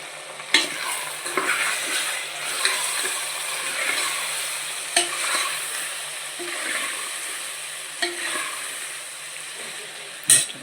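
Vegetables and tomato frying with garam masala in a pressure cooker for vegetable biryani: a continuous close sizzle broken by several sharp clatters of a spoon stirring against the pot, with no talk.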